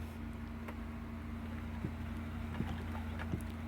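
A hand-cranked Victorio food strainer mills plums and apples. A low, steady mechanical hum runs throughout with faint, regularly spaced clicks as the crank turns, and nobody talks.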